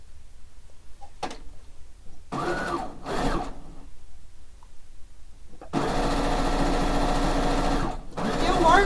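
A sewing machine stitches a fish-themed quilt in short bursts early on, then runs steadily in a longer, louder stretch near the end, close by with faint talk in the background.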